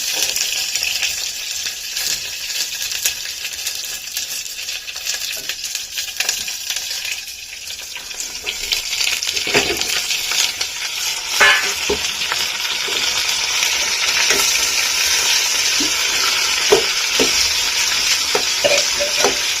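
Onions frying in a pan, a continuous loud sizzle with scraping stir strokes throughout and brief gaps where the hiss dips before swelling again.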